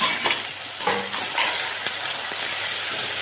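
Ground coconut and chili paste sautés in a pan, with a steady sizzle broken by spoon scrapes and a few light clinks against the metal; no one speaks.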